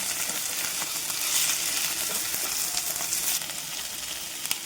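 Fresh pond fish masala with ginger and garlic sizzling in a pan, a continuous close hiss broken by irregular stirring scrapes and clinks, with no one talking.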